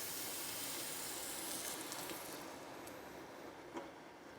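Curry made with coconut milk simmering in a pan, a soft continuous sizzle and bubbling hiss that fades gradually, quiet and close with no voices.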